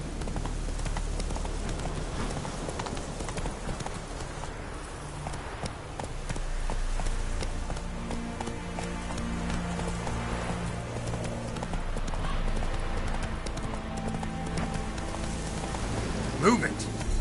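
A horse galloping in The Witcher 3, rapid clip-clop hoofbeats drumming steadily under a rainy, ambient game soundscape with occasional other sounds.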